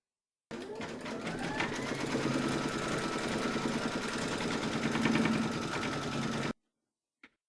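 A home embroidery machine stitches a faux fur dog coaster, with a steady, fast mechanical whirr and needle chatter running for about six seconds before it stops abruptly, close and fairly loud with no talking.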